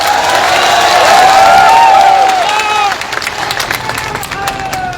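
A large crowd at an outdoor election rally cheers and claps loudly, shouts and whistles rising above the clapping early on, then easing into scattered applause and calls.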